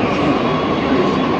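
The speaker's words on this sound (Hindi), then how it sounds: "चलिए मेट्रो आई।" A metro train arrives at a station near Gurgaon, a loud, steady broadband rumble and rush of wheels and air filling the whole stretch with no pause.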